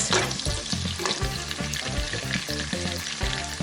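Onions cook in a pot with a strong, continuous sizzle over a steady rhythmic background pattern, close and fairly loud, and nobody speaks.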